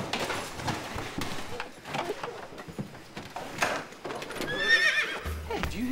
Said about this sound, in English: A horse!